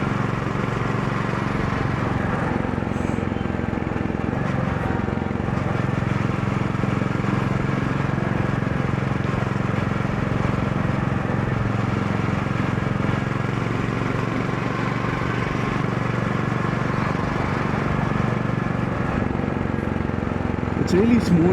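A Goan Classic 350 motorcycle being ridden on the road from Delhi to Gurugram gives a steady, unbroken low engine drone with constant road and wind rumble.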